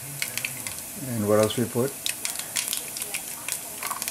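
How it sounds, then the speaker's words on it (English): Mustard seed, cumin and fennel seed frying in hot oil for a sweet potato curry give a steady crackling sizzle with sharp pops, while a person speaks briefly over the cooking. "we are frying the spices, which is mustard seed, cumin, fennel seed,"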